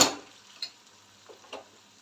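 Onions fry with added spices in a pan, a soft sizzle following a sharp initial clatter, with a couple of faint stirring scrapes over about two seconds.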